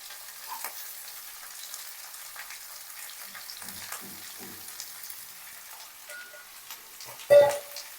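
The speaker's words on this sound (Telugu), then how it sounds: "ఇలా కట్ చేసుకున్న తర్వాత ఒకసారి ఫ్రై చేసుకోండి." Ivy gourd (tindora) cut into long strips frying in a pan gives a steady, soft sizzle with a few quiet stirring clicks, then one louder knock near the end.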